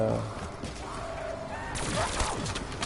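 MP40 submachine gun fire in Black Ops 3 Zombies: a fairly quiet burst of rapid automatic shots, with game sounds and some talk mixed around it.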